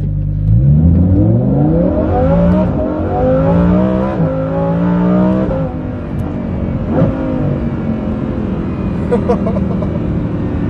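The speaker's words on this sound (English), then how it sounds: "What you just heard is the Kline-Innovation Inconel exhaust system for the Lamborghini Huracan" A Lamborghini Huracan Performante with a Kline Innovation Inconel exhaust roars through several sharp revs that rise and fall, loud and close, then settles into a rumbling idle.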